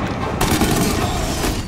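Sniper rifle fire in a Mafia Definitive Edition battle, a loud sustained blast with booming, dense roar filling the whole moment and no voices over it.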